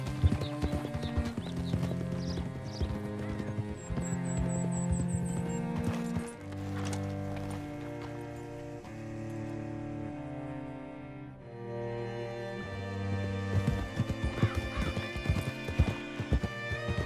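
Horse hooves clip-clopping steadily alongside whinnies and neighs in Red Dead Redemption 2, a mid-distance ride with a running music score underneath.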